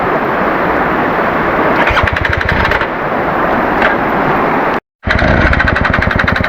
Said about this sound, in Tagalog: Ito na, pilit na pinapandaris yung motor.